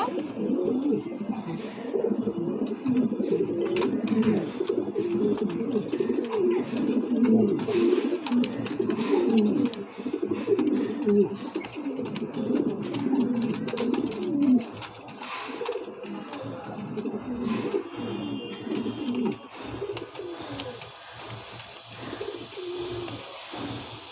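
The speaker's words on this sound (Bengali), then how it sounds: "দেখতেই পাচ্ছেন কবুতর দুইটা খুবই সুস্থ" A pair of healthy king pigeons coo steadily and close by, their low throaty calls overlapping in a continuous rolling stream, fading somewhat in the last few seconds.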